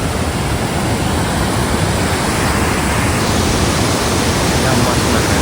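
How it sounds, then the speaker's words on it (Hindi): Waterfall along the Kedarnath trail in the mountains, a loud, dense and unbroken rush of falling water filling the scene, close and constant throughout. "लेकिन यहाँ से वाटरफॉल बहुत खूबसूरत है, ये नीचे भी और इस साइड तो और ही गजब लग रहा है।"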